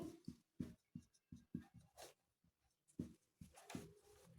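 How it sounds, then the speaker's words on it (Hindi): Chalk or marker scratches across a classroom board as a biology term is spelled out: a quiet run of short, rhythmic strokes and taps, some quick and clustered, others spaced apart, with no voice. "मैं इसकी स्पेलिंग ठीक से लिख दूं"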